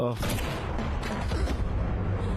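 Gunfire in a Hindi-dubbed movie scene: a rapid volley of sharp shots with booming impacts, dense and loud over a busy soundtrack of music and effects.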